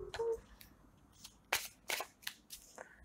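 A deck of tarot cards is cut and handled, giving a few soft, close paper slaps and riffles spaced out over a few seconds in a quiet room.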